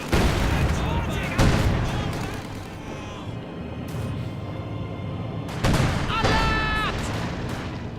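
Machine gun and rifle fire in the World War II strategy game Company of Heroes 2, dense bursts and booms rumbling continuously as a Soviet DShK heavy machine gun targets conscripts, with a commentator talking over the battle.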